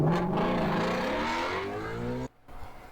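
A Ford Shelby GT350's flat-plane 5.2-liter Voodoo V8 revs hard, a loud, rising high-pitched engine wail climbing steadily for about two seconds before cutting off abruptly, then a brief quieter rumble.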